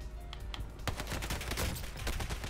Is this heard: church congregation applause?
no